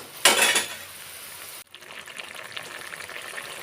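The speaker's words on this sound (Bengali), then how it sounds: "দিয়ে ভালো করে আমি ঝোলের সঙ্গে মিশিয়ে নিচ্ছি" Fried eggs are stirred into simmering gravy in a pan, beginning with a short splashy burst, then giving way to a steady bubbling hiss with faint scraping.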